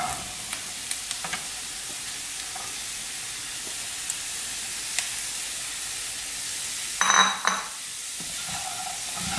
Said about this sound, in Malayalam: ഇനി ഇതിലേക്ക് പാവയ്ക്ക ഇടാം.